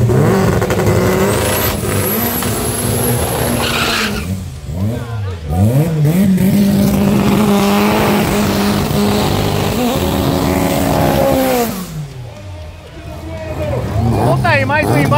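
Drag racing cars launch down the strip in pairs, engines revving hard with rising and falling pitch sweeps as they accelerate away, under a crowd murmur and announcer talk.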